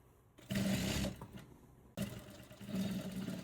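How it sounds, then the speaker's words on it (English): Sewing machine stitching fabric for pants, two rapid mechanical whirring bursts separated by a short pause, close and fairly quiet. "Then you go to your machine and run a stitch with 1/2 inch."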